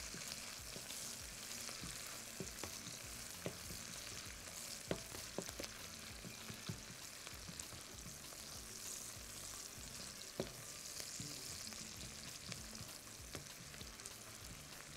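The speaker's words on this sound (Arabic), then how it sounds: "والبصل بيتحمر يطلع ريحة حلوة" Onions fry in a pan with a steady soft sizzle and scattered crackles and pops, with occasional stirring, quiet and continuous throughout with no talking.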